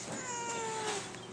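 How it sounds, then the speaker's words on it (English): A single drawn-out cat meow, fairly close, heard over a soft background hiss. "Look at the fat kitty."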